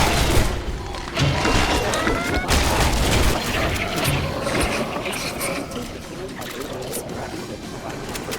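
Bursts of gunfire and heavy thuds from the video game Operation Heartburn rattle along in a dense, chaotic mix, with sharp shots standing out early on before blending into continuous mechanical clatter.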